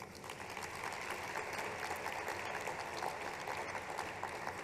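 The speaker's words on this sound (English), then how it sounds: "Maybe a round of applause for them." Sustained clapping from an audience at a conference closing session, moderately loud and even, continuing without a break and with no speech over it.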